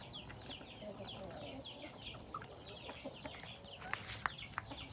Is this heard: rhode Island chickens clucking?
yes